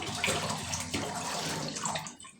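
Water pours steadily into a container of washed urad dal for soaking, a broad splashing rush lasting a couple of seconds before tapering off near the end.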